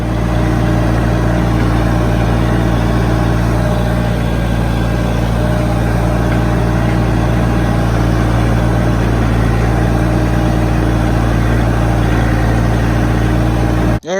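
A tractor works steadily while ripping roots and compacted soil, its engine a loud, continuous low drone close by that holds constant throughout before cutting off abruptly at the end.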